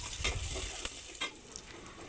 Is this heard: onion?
yes